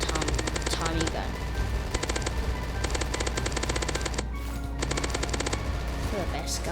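Rapid minigun fire in the Zombie Attack video game, sustained bursts of fast automatic shots separated by short pauses, loud and continuous over background game noise.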